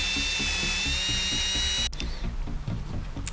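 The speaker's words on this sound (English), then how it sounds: "I'm just gonna drill another hole to accept that" A power drill bores a hole for a dowel rod on a steampunk rifle build, a loud close whine for about two seconds before it stops, followed by faint handling clicks.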